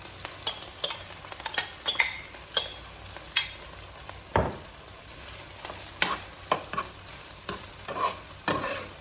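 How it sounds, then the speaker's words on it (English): Vegetables with garlic and onions sautéing for chop suey, a steady sizzle in the pan broken by repeated spoon scrapes and stirring clatters, close and alone without talk. "And we're just kind of sauteing the vegetables now."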